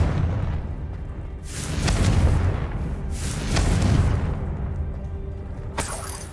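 A Confringo explosive spell fired in a video game: a rumbling background broken by two heavy booming blasts a couple of seconds apart, then a sharp crack near the end.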